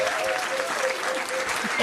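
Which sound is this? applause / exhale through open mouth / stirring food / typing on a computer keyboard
applause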